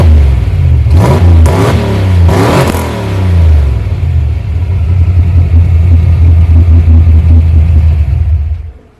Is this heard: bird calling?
no